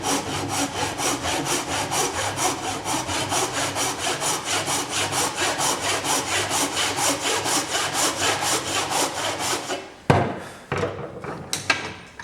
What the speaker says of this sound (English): To rip down our dovetail, I'm going to cut on the waist side of our line.